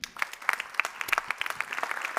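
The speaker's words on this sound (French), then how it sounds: "Merci d'applaudir Rémi Dick." An audience claps briefly at a partners' event, a dense patter of hand claps lasting only a couple of seconds at moderate distance with no voices.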